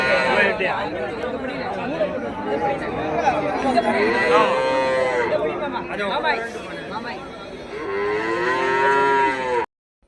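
Cattle at a livestock market in Tamil Nadu moo repeatedly, several loud, close, drawn-out calls rising over a constant murmur of people chattering in the background.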